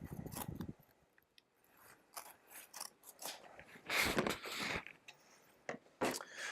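Scissors are handled in a workshop among tools for deburring aluminum holes, with faint intermittent clicks, snips and rustling scrapes scattered in a quiet background.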